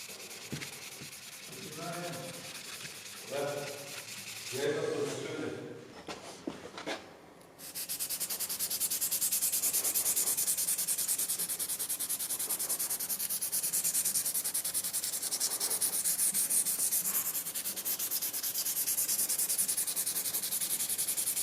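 Fine sandpaper rubbed over a scraped wood surface, a steady close scratchy hiss that runs continuously after a few shorter strokes at the start.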